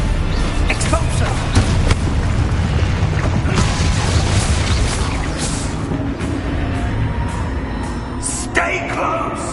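Magical Expulso blast effects from a Harry Potter video game, loud booming bursts that run continuously through the whole stretch amid dense rumbling game noise.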